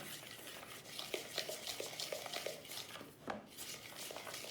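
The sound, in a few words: stirring edible honey slime mixture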